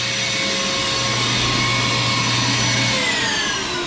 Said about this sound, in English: Switch the vacuum off.